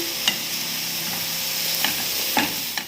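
Onion and green chillies being stirred in a pan, a steady soft sizzle broken by a few sharp scrapes and clinks of the spoon against the metal, close and alone.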